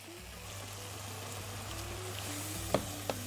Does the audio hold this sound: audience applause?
no